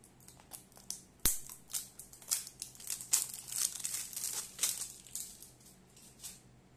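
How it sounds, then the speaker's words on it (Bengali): Mcaffeine face serum packaging being torn open at its seal, with a sharp snap followed by a run of close crinkling and rustling of wrapper material, no voices. "এটা আমি এবার খুলছি সিলটা।"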